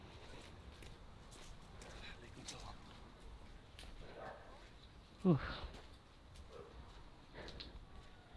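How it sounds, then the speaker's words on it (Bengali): A dog on a street in Kyrgyzstan gives one short, sharp bark at middling distance, standing out briefly from steady outdoor ambience and soft footsteps while faint voices murmur in the background. "কুকুরের আওয়াজ শুনতেছি আমি"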